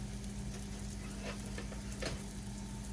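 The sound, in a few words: squash frying in a pan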